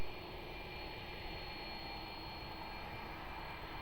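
A plane's jet engines roar steadily on takeoff from runway 02 at Lisbon Airport, a broad, even rumble heard from a distance with no voices over it.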